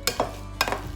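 Ripe bananas mashed in a bowl for banana bread, two squishy, sticky strokes with a short gap between them over a low background hum.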